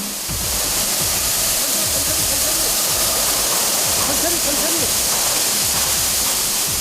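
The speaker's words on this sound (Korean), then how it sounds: "밴딩을 풀고 세척 작업이 시작된다." High-pressure water spray washes sand and grime off tank tracks during an army tank overhaul, a loud, steady hissing rush with splashing, close and unbroken.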